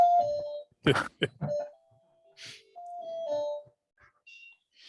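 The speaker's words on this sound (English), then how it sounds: "That's our doorbell." A house doorbell rings at the front door with bright chime tones and a few sharp percussive hits, then sparse lingering tones and quiet gaps, heard clearly in an otherwise quiet room.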